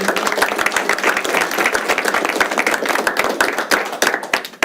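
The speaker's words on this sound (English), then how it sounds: "round of applause to their efforts and their season." An audience at a school board meeting claps for a girls' team, with distinct close handclaps over a lively, fairly loud round of applause that thins out near the end.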